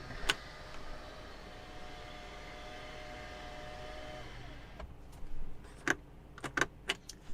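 A 2021 Mercedes-Benz E450 sunroof slides open with a steady, fairly quiet electric motor whine for several seconds, then stops, followed by a few sharp clicks and taps near the cabin.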